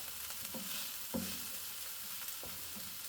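Onion frying in a pan for bolognese sauce, a steady bright sizzle with a few soft scrapes of stirring at intervals, close and on its own without voices.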